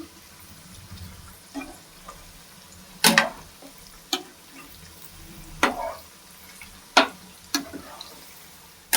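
Cauliflower pakodas frying in hot oil, a low simmering sizzle broken by several sharp clatters and scraping stirs.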